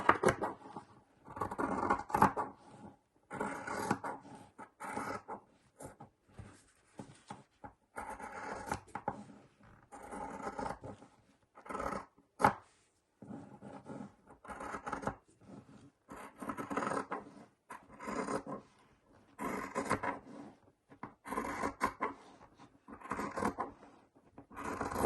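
Scissors snip and rub through fabric edges of a patchwork Christmas journal cover in quiet, irregular bursts of close cutting and scraping, with short pauses between strokes.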